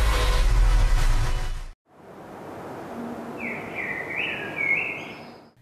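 A brief loud burst of sound cuts off, then a few high, bright bird chirps trill over a soft hissing background.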